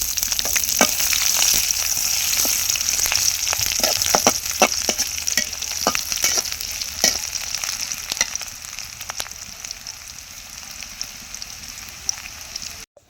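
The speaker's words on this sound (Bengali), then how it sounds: "দিয়ে দেবো পেঁয়াজ কুচি" Chopped onions sizzle in hot oil for a beef and potato curry, a steady broadband crackle with frequent sharp pops that gradually quietens toward the end, with no voices.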